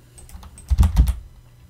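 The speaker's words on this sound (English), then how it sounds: "you can see what I'm typing" Rapid clicking of a computer keyboard as someone types commands into a terminal on a Raspberry Pi setup, a close, crisp cluster of keystrokes that peaks in the middle, with no talk.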